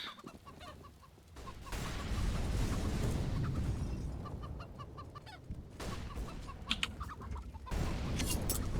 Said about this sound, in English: The chickens just won't shut up. You can hear the chickens just bucking about.